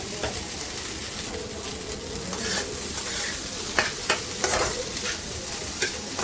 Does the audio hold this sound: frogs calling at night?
no